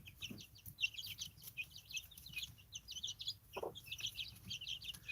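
A small flock of chickens roused from sleep keeps up a steady stream of thin, high peeps and soft clucks, quiet and close, with occasional low scuffling bumps.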